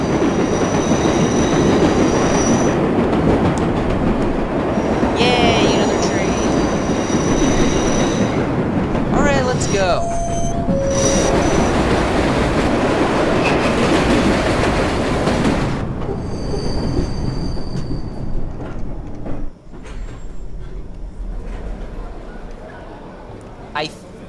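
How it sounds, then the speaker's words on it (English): A subway train in the video game World of Subways 4 rumbles past close by, with wheels squealing and clattering over the tracks, while someone talks over the noise. "Oh look, another train, never mind."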